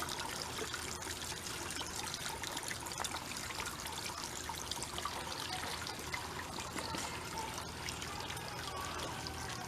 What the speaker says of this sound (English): I keep my waterfall running all winter long